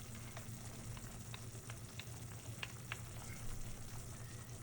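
Roux is stirred into a simmering sauce for shepherd's pot pie, a soft bubbling sizzle with scattered scrapes and light taps of a utensil against the pan, close by and fairly quiet.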